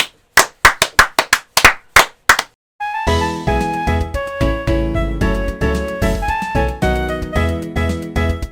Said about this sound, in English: I'm breaking the sound barrier with these claps.